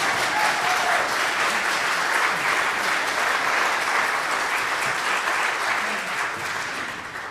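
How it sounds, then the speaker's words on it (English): A church congregation at Sunday worship applauds steadily after a musical performance, a dense, sustained wash of many hands clapping close by, tapering slightly toward the end. "You can clap. Go for it."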